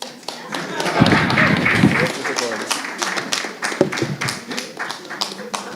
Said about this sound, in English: Clap for Ulson